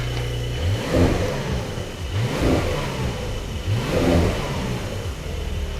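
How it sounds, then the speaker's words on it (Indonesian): A 2023 Porsche 911 GTS engine revs in its loud exhaust mode, with three close, strong throttle blips spaced about a second and a half apart over a steady idle. "Tapi kalau pengen lebih keluar lagi suaranya, kita pencet ini. Nah, lebih berisik lagi nih, bro."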